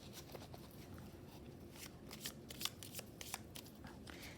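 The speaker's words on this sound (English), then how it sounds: "I will be drawing in more cards to give us more insights" Tarot cards being shuffled and drawn for a Taurus love reading, a soft, steady run of papery riffles and slides with several sharper flicks, close and fairly quiet, with no voice.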